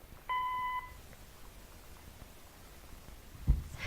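A single electronic tone, roughly half a second long, sounds as a phone call connects in the exploration game Gone Home. It is clear and steady, then gives way to quiet room tone and a faint thump.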